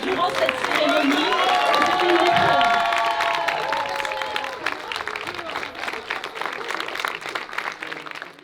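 A crowd at a short-film premiere ceremony bursts into loud, sustained applause with cheering and whoops, the clapping gradually thinning toward the end.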